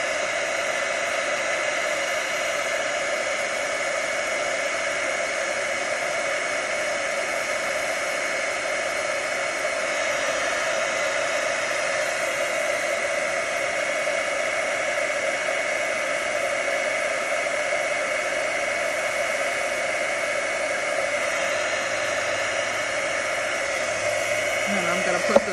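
A hair dryer or heat tool runs steadily, drying watercolored paper for a daisy card. The whir is continuous and loud for the whole stretch, with no one speaking.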